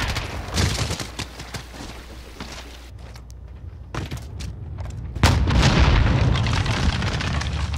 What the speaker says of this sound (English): he got a C4 to the face